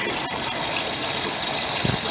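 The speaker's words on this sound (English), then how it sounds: "You can definitely hear the water is sloshing around the tub for tumble." Water sloshing and gushing inside a Maytag washer tub during its clean cycle, a steady, dense rushing wash with a pump-like churn underneath, close and fairly loud, no speech.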